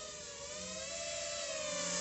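A JJRC JJ1000 mini quadcopter flies steadily with a high, even whirring whine from its small rotors that rises slightly in loudness.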